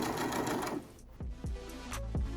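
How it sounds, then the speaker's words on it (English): A sewing machine stitching elastic onto the side of a fabric face mask, with a dense run of rapid stitching followed by several short separate bursts, close and clear with no talking. "go ahead and sew in the side that we pinned"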